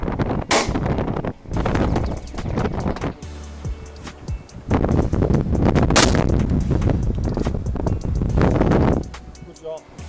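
Shotgun blasts fired at pigeons in high wind, a few sharp loud reports standing out over heavy, roaring wind buffeting the microphone, with people talking and calling out between shots.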